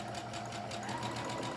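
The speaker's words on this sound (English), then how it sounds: "I'm going to back stitch here" A sewing machine back-stitches muslin with a steady, rapid mechanical whirr and chatter, close and even, running alone for the whole short stretch.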